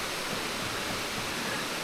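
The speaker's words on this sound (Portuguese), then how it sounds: "As quedas d'água sempre são bonitas." Steady broadband rush of a waterfall beside a forest trail at Garden Park in Gramado, a continuous close hiss of falling water with no other sounds.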